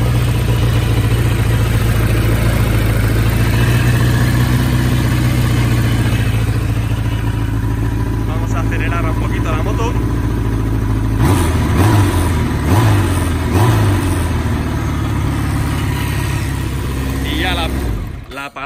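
A Kawasaki GPZ 1100 motorcycle engine idles loudly and steadily, then is blipped with several throttle revs before cutting off at the end.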